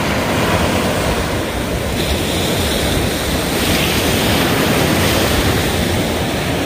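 Morning sea waves wash steadily onto Sugar Beach at Sipalay, a loud, continuous roar of surf close by with wind buffeting the microphone and no voices.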